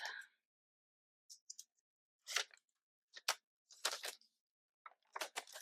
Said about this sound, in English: I'm going to use some priority mail stickers to close it off.